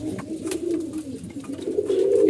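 Colored pet pigeons coo softly and continuously in a loft, a low, steady burbling that rises slightly toward the end.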